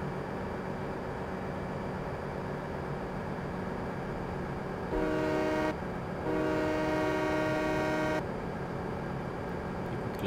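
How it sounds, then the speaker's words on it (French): A train horn sounding in Farming Simulator 17 while riding the train. Two long, loud tonal blasts with a short gap between them rise over a steady low rolling rumble. "Écoute, klaxon au passage."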